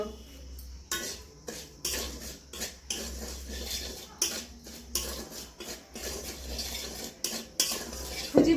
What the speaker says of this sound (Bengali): সুজি এবারে আমি হালকা করে ভেজে নেব